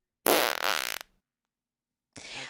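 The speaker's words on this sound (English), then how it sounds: "I'll say it's not a Bart, it's a fart, and you'll hear this." A fart sound effect plays as a loud, close, raspy blast of nearly a second, followed after a pause by a shorter second burst.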